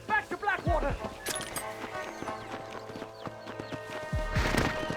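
Horse hooves clip-clopping steadily in Red Dead Redemption, a close, rhythmic trot with a whinny, as voices talk over the riding.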